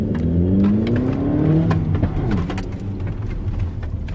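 Audi A3 TFSI with a K&N air filter accelerating hard, the engine note rising steadily and then holding, loud and close, likely from inside the car.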